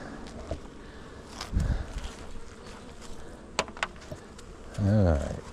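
Honeybees buzz around an open beehive during an inspection, a steady close hum with a few louder passes near the microphone and brief bumps of handling.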